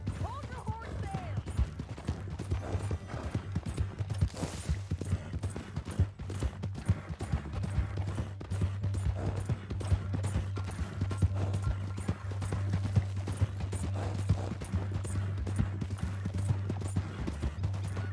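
Steady clip-clop of horse hooves trotting at a constant rhythm in the video game Red Dead Redemption 2 on PS4, with a voice speaking intermittently over the hoofbeats.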